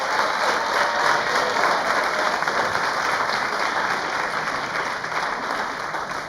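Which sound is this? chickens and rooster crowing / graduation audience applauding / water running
graduation audience applauding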